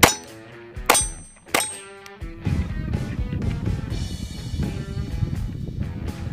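Three sharp metallic clangs ring out close by while a round is loaded into a Glock 44 Promag 18-round magazine, each one followed by a short, bright ringing tail, and then a busier patch of softer handling clatter.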